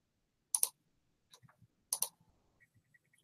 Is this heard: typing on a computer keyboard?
yes